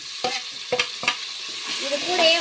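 Tomatoes go into browned onions in a pot for white biryani, three quick stirring scrapes over a close sizzle that then settles into a steady hissing fry with small popping bubbles.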